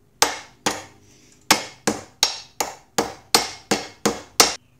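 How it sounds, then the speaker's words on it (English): Ten sharp metallic hammer blows strike a nodule on the first brake bracket of a Razor E300 electric scooter, close and loud, in an uneven rhythm with a short pause after the second hit. "We're just going to hammer over this nodule on the first bracket there, so that under braking, this bracket doesn't rotate."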